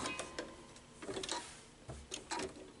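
A sewing machine stitches around the edge of a fabric placemat in short uneven runs, its quiet needle clatter starting and stopping several times.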